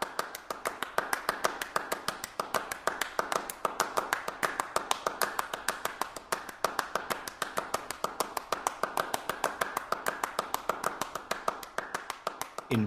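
Steady hand clapping: dense, rapid claps in an interlocking repeated rhythm, crisp and close, continuing without pause and without voices.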